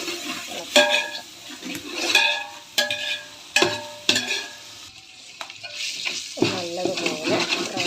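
Browned onion and ground garlic paste fry in a pan for Palakkad dum biryani, a steady sizzle broken by repeated scraping stirs and metal clinks against the pan, close and fairly loud.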